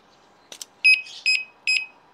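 A few faint clicks, then three sharp electronic warning chirps in a steady rhythm, loud and close, from a small disc brake lock alarm.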